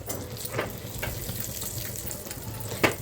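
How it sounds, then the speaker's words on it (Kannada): Raisins and cashews frying in ghee in a small pan give a steady, faint sizzle and crackle, with an occasional utensil clink near the end and no talking. "ಈಗ ಸ್ವಲ್ಪ 1-2 ಸ್ಪೂನಷ್ಟು ತುಪ್ಪ ಹಾಕ್ಕೊಂಡು ನೀಟಾಗಿ ಅದನ್ನು ಫ್ರೈ ಮಾಡೋಣ"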